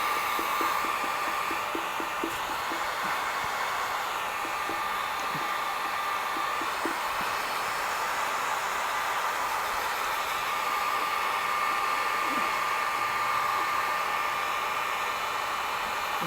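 A heat gun blows a steady, loud airy rush while warming a vinyl stripe on a boat hull, with faint scattered clicks underneath and no talking.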